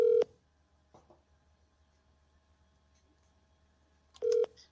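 Two bursts of telephone keypad dialing, DTMF tones at the start and end, separated by near silence with a few faint clicks.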